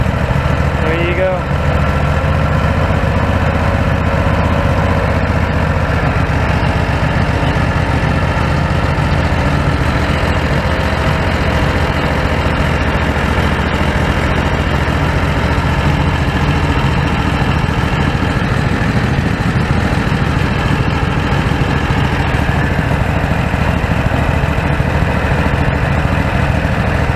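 A Predator 670 engine idles steadily with a freshly adjusted carburetor, a continuous loud low rumble that holds even throughout without throttle changes.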